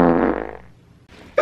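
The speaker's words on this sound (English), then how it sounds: "But stop farting!" A single drawn-out fart rumbles up close and loud, fading over about half a second before a brief noise at the end.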